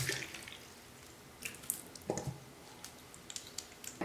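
Water from a tap trickles and drips while makeup brushes are rinsed in a sink, faint and intermittent with small splashes and squishy bursts of the bristles, no speech.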